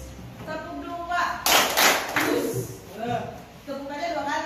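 Students in a classroom clap in short bursts, with a sharp burst of hand claps in the middle, as a teacher talks and chants over it, close and lively.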